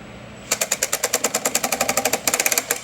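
An impact gun loosens bolts on a 2011-or-later Dodge Charger during an oil job, hammering in one fast, even burst of sharp rattling blows, then a brief pause and a second short burst.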